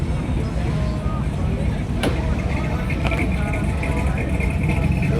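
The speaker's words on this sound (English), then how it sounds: "get some more exhaust noises over here" At an outdoor classic car and hot rod show, a car exhaust gives a low, continuous rumble that stays under nearby crowd chatter and people talking throughout.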